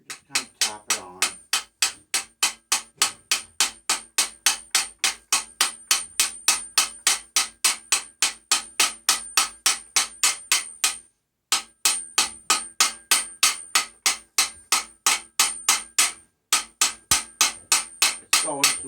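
Steady rhythmic hammer taps drive a timing gear onto a Chevy 355 engine through a homemade tool, dozens of evenly spaced metallic knocks close up, with two brief pauses.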